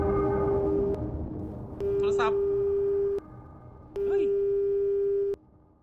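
A phone busy signal in a horror video game set in a laundromat at night: three long steady electronic tones separated by short gaps, loud and close, with brief game sounds between them.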